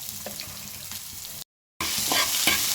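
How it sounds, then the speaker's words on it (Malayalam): Onions and garlic sautéing in a pan, a steady close sizzle with stirring clatter, broken by a short total silence midway before the frying resumes louder. "അത് നന്നായിട്ടൊന്ന് വഴറ്റണം."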